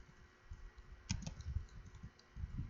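Computer keyboard being typed on, with soft, uneven clicks of keystrokes close by over a faint hum and no speech.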